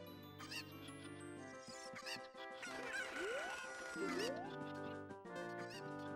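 Chickens cluck and squawk in the video game Ocarina of Time, several birds calling in quick bursts with rising squeals over a steady synthesized game backdrop.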